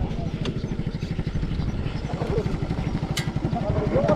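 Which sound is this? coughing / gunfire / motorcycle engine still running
motorcycle engine still running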